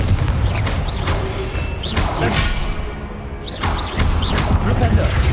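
Confringo explosive spell is cast during combat in Hogwarts Legacy, producing several loud crashing booms and whooshing hits spread over a few seconds amid dense battle noise and voices.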